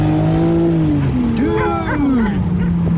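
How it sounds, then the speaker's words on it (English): A car speeds up a short uphill incline with its tires spinning, its engine whining and changing pitch as the revs shift, loud and close, with voices over it. "The tires were spinning, dude."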